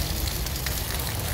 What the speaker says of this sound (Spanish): esa fuerte lluvia que se está registrando en la ciudad de Arequipa